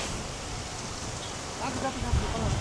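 Steady rain falling outdoors at a sheep market, a dense even wash of broadband patter with faint voices and a few low knocks underneath.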